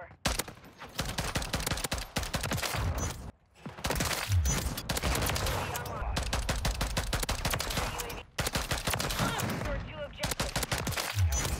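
Rapid bursts of gunfire from a weapon switched to single fire in Modern Warfare 3, loud and dense with brief pauses between volleys, a voice talking over the shooting.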